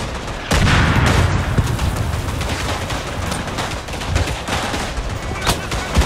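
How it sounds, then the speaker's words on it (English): Artillery and gunfire in the World War I shooter Verdun, a loud, continuous barrage of booms and crackling shots that starts abruptly and rumbles on, with a voice speaking faintly underneath. "Oh, there's already artillery."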